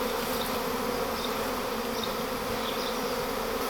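A large honeybee swarm moving into a hive at a château, dense continuous buzzing of many bees, steady and close with no voices.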